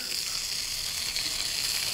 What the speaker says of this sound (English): seitan, which I'll start cooking right now because it takes a little bit to get some nice caramelization on it